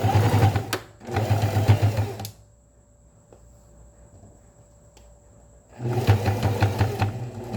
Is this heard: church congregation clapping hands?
no